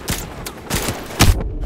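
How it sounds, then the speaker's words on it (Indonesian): Explosions and gunfire in the video game Call of Duty: Modern Warfare Remastered, with junked cars blowing up. Loud, broadband bursts land near 0.1, 0.7 and 1.2 seconds over a steady rumble of battle, and no one talks. "Waduh, meledak lagi."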